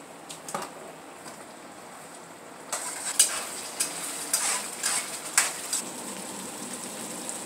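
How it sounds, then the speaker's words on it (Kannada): Pulihogare tamarind paste boils in a pan, giving soft bubbling and sizzling with scattered sharp pops that grow busier midway, close and alone without talk. "ಇದೊಂದು 10 ನಿಮಿಷ ಚೆನ್ನಾಗಿ ಕುದಿಲಿ."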